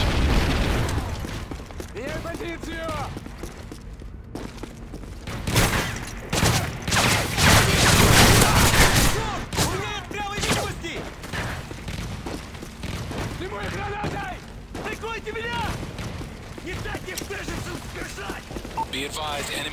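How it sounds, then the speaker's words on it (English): Predator missile explosions and gunfire in a video game, with rapid bursts and a heavy booming blast midway, layered under game voice announcements. "Friendly Predator missile inbound."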